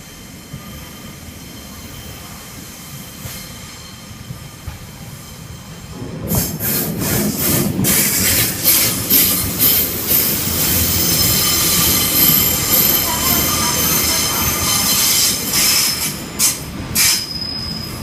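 A Northern Railways train pulls into Lincoln Central station, starting after a quiet platform hum with a loud rumble and rising wheel squeal that persists, with sharp screeches and clanks close by.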